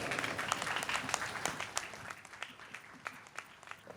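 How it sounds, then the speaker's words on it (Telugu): Loud, dense applause from an audience at a church silver jubilee celebration in Attalur, Amaravati Mandal, India, steady clapping with scattered sharper claps throughout and no talk. "చప్పట్లు కొట్టండి అందరికి గట్టిగా."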